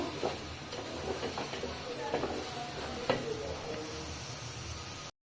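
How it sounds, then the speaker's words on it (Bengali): Food frying in a pan in a Bangladeshi village kitchen until lightly browned: a steady, soft sizzling hiss with occasional stirring clicks and knocks, low-level and continuous throughout. "একটু বাদামি রং করে ভাইজে নেব"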